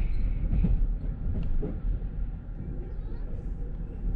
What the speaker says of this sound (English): The train's rolling nicely.